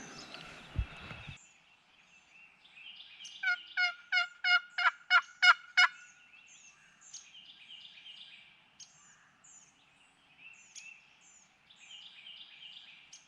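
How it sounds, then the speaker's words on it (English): Wild turkeys gobble in Missouri spring woods down a creek, a rapid series of loud rattling gobbles from a fair distance, with songbirds chirping around them and a brief rustle at the start. "There's two gobbling. Sounds like they're down the creek, close to the property line."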